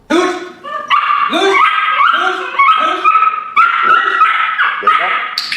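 A dog barks on command during a home training session, giving a rapid series of loud, close yips and barks with whimpering tones, repeating almost continuously with no pauses for speech.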